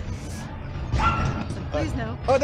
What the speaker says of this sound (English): Oh, there's a dog right over there.